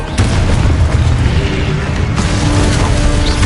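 Confringo fire-blast spells go off in the Hogwarts Legacy video game: two heavy booming explosions, each followed by a deep, rumbling roar that fills the whole stretch.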